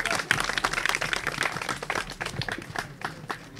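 Scattered hand claps from an audience at a student presentation event on flooding in the Extreme North of Cameroon, an uneven, moderately loud patter of claps with no voices.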